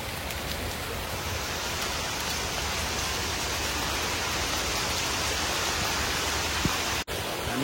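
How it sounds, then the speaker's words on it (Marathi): Heavy rain pours in a steady, dense roar of downpour that never lets up, with no voices over it. "खूप पाऊस आला."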